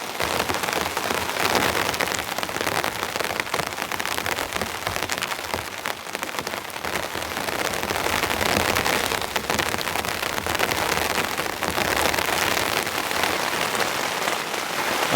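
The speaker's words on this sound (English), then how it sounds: "Ice rain falling from the heavens." Steady dense patter of sleet striking a taut tent during a snow and rain storm, a continuous hiss with fine crackling impacts throughout, no voices.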